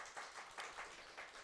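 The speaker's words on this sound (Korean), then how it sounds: "우리 박수로 축복하겠습니다" A church audience gives a short burst of applause, quick, fairly faint clapping from a room of people lasting about a second and a half, with no speech over it.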